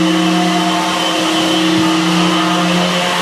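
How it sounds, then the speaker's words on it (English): A DeWalt 60-volt FlexVolt cordless vacuum runs steadily and loud for the whole stretch, a constant whining motor drone with a strong tonal hum and broad airy rush, with no talking. "We're using the DeWalt 60-volt flex volt vacuum to keep the dust down."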